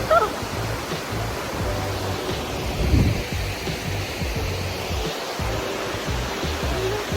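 Water rushes in a loud, steady broadband roar at the waterfall on the Copolia nature trail on Mahé, Seychelles, continuing without a break and with no voices.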